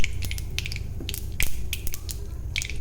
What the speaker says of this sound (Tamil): கடுகு பொறிஞ்சிருச்சு